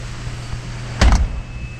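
A BMW moonroof motor gives a short, close whirring burst over a steady interior hum, then the cabin settles back to a quiet drone.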